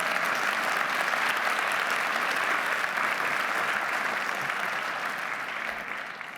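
Sustained audience applause fills a hall at an MLK holiday observance in Madison and Dane County, a dense, steady wash of many hands clapping that fades slightly toward the end, with no voices over it.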